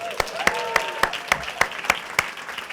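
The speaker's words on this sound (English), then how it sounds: "Please give a huge round of applause to the incredibly talented Mr." Studio audience at a late-afternoon comedy show applauding a guest, with sharp, evenly spaced claps landing in a steady rhythm over a faint tonal hum.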